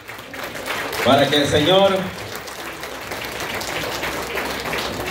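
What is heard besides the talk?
wedding guests applauding the newlyweds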